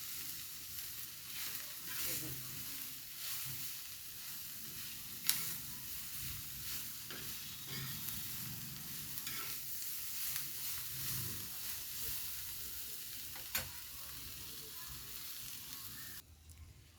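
Chili and coriander frying and being stirred in a pan for bombil thecha, a steady close sizzle with scattered spoon scrapes and a couple of sharper clinks.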